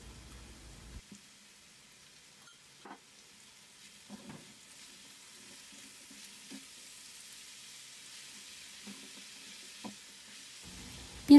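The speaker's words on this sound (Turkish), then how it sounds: "üzerine kabak kabuklarını ekliyorum ve birlikte kavurma işlemine devam ediyorum" Zucchini peels sautéing in a pan give a faint, steady low sizzle with occasional soft stirring clicks and scrapes, close by and with no talking.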